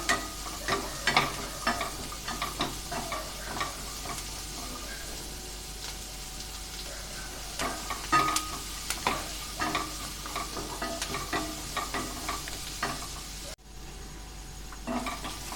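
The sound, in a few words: onions being stirred and sautéed in pan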